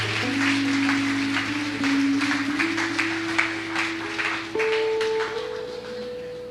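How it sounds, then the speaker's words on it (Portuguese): A church congregation claps together during an evening Sunday service, a dense, steady wash of applause with a sustained keyboard or organ tone held underneath and rising in pitch partway through. "Pode aplaudir aí."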